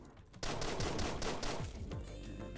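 Rapid volleys of gunshots in the video game Deadbolt, a dense string of loud close bangs running almost continuously for a few seconds after a brief quieter start.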